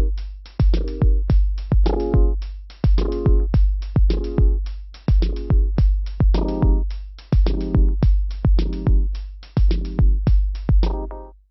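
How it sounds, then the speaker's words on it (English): An Ultrabeat drum synth in Logic, with an LFO modulating the filter cutoff, pounds out a fast repeating pattern of punchy low kicks and short pitched bursts. The pattern is loud and steady with no voices. "I'm going to route LFO number 1 into the cutoff frequency"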